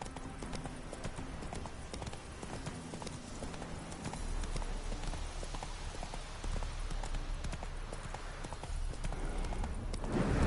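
Horse hooves clip-clop in a steady walking rhythm in a video game, close and continuous, with a faint voice briefly in the background.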